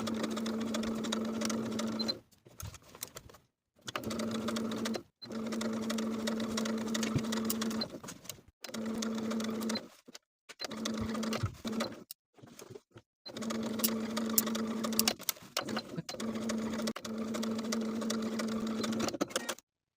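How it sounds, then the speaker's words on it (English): A home sewing machine stitches a facing to a garment neckline with a 3/8 inch seam allowance, running in steady close whirring bursts of several seconds each with short silent stops in between. "we'll sew the facing to the neckline with a 3/8 inch seam allowance all the way around"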